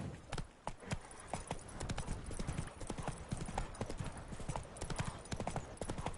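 Roach the horse in the video game The Witcher 3 gallops at a steady quick rhythm, the close hoofbeats thudding continuously from start to finish, with no talk over them.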